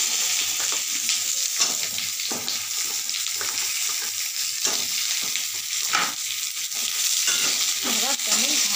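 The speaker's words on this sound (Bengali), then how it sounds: "এইবার জলপাইগুলিকে আমি আস্তে আস্তে এই ম্যাশ করা সর্ষে শুকনো লঙ্কার মধ্যে ছেড়ে দেবো" Olives sizzle in a pan with mashed mustard and dried chili, a steady close frying hiss broken by repeated stirring scrapes and soft clicks; no talking.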